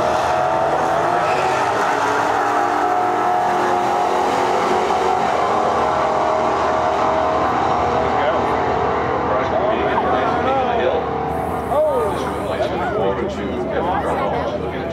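A heavy milk truck's engine roars loudly and steadily at a drag race, revving higher toward the end with a brief tire squeal, and voices chatter underneath.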